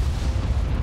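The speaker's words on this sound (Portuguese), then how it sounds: "Eita caralho, que explosão" A booming explosion in the fantasy strategy video game The Hand of Merlin, a loud, deep rumbling blast that fills the moment alone without speech.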